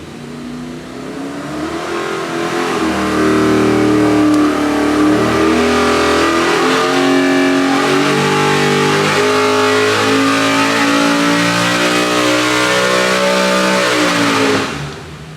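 A 427 cubic inch LS3 twin turbo engine on a dyno pull, loud and close, rising from idle through a long sweeping rev toward 7,500 rpm with climbing harmonics, then cutting off.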